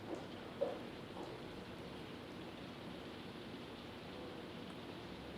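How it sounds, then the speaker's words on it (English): Steady, faint rain-like hiss runs evenly throughout, soft and diffuse with one small tap near the start. "I hear some noise like if it's raining."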